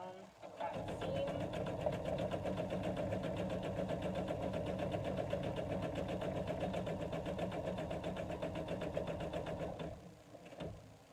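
A sewing machine stitches fabric to tack down a seam, a steady rapid mechanical whir and needle chatter running close and continuous for about nine seconds before stopping.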